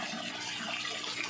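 Water gushing out forcefully under pressure from a water pump in a backyard tilapia pond setup, a steady rushing flow heard up close.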